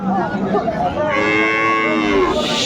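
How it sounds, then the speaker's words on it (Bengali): A dairy cow lets out a long, loud moo up close at the Ambari cattle market in Dinajpur, with a faint murmur of people in the background. "আমরা দেখছিলাম এখানে বেশ সুন্দর একটি গাভী বাছুর"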